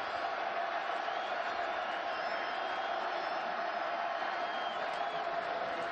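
At a college football game with more than 100,000 in the stands, stadium crowd noise forms a distant, continuous roar, a broad steady wash with no distinct cheers rising out of it.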